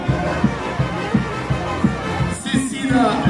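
A festival crowd at the Hagetmau fêtes applauds in a steady, fairly close wash of clapping and murmur, with a rhythmic thumping beat underneath and a swelling burst of cheering near the end.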